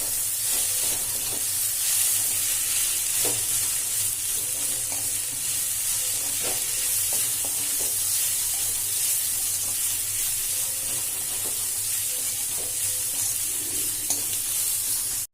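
Vegetable palya with chilli powder stirred in a hot pan, a steady close sizzle with light scraping taps from the spatula throughout, no voices over it.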